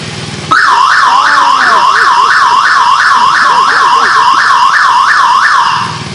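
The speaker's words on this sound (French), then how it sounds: "pour mon kiff personnel, mettez-moi la sirène" A French police car siren switched on, its loud wailing two-tone cycle repeating steadily for several seconds, close and continuous before cutting off at the end.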